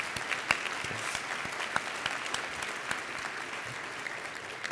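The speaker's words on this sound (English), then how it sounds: "could we give a round of applause to all the people who organized?" Audience applause at a large local public health conference, a steady wash of clapping from many hands with scattered sharper claps, moderately loud and sustained throughout with no voices on top.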